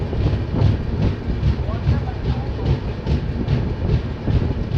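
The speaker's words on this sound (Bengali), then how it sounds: "ট্রেন ধীরে ধীরে রায়বরেলি স্টেশন এন্টার" A New Delhi to Malda Town Express rolls slowly into Raebareli station before dawn, giving a steady low rumble with rhythmic clickety-clack of wheels over rail joints, heard from inside the train.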